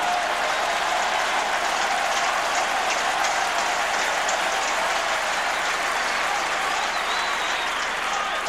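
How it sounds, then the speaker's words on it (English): A tennis crowd at the 2006 Roland Garros final between Federer and Nadal applauds a shot, with steady, dense clapping filling the whole stretch like heavy rain. "nice to see Tony applauding a great shot from Federer"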